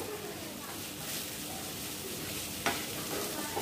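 Fried okra and tomatoes being stir-fried together in a pan, a steady close sizzle with scraping stirs and one sharp clink of the spatula partway through.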